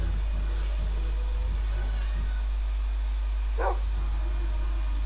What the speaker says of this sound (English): that's Matthew's dogs